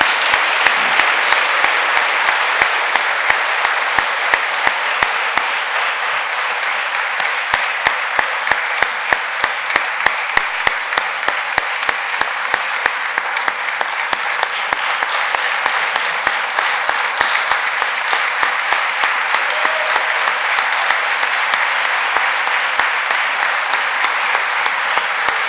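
An audience at a college athletic Hall of Fame induction ceremony gives a long, loud, steady round of applause, dense clapping that carries on evenly without a break.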